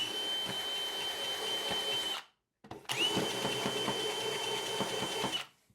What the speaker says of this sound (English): I remembered I own these sanding cylinders for the drill